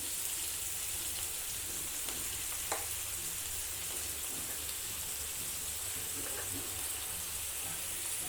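Onions and chopped green chili sautéing in a pan for vegetable kuzhi paniyaram, giving a steady, moderate sizzle throughout with a few faint stirring clicks, no voices.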